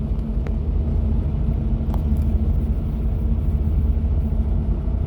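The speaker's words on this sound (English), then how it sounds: "I'm watching these trucks pull up with these hogs." Truck engines rumble steadily at close range while hog trailers pull up at a slaughterhouse, a low continuous idle filling the whole stretch with no talk.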